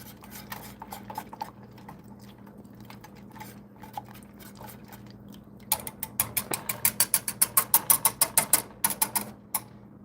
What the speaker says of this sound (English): So we're just going to kind of whisk this together.